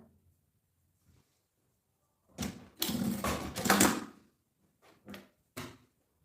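A sewing machine stitches folded fabric ends in short close bursts of mechanical whirring and clatter, with a longer run in the middle and quiet pauses between.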